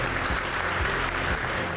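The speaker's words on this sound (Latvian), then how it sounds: "ar ovācijām un aplausiem sagaidīsim katru no komandām" Sustained, dense applause with cheering fills the room as a live audience welcomes competing teams onto the stage at a regional semifinal of a school quiz contest, steady and loud for the whole stretch.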